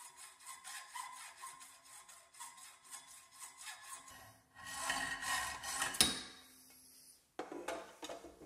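A hand saw cuts a metal round bar to length, rasping in an even back-and-forth rhythm of close strokes, then shifting to louder, rougher scraping with a sharp clank near the end.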